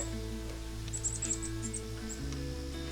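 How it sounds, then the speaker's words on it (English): A squirrel chirps in a marsh with a quick run of short, high, faint calls rising over a steady low drone of outdoor background noise. "What's the squirrel chirping about?"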